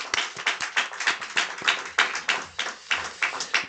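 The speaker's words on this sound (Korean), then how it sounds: "우리 하나님께 영광의 박수 올려드리겠습니다." Rhythmic group clapping at a Christian prayer breakfast in a church, steady repeated hand claps at close range, lasting a few seconds with no talking.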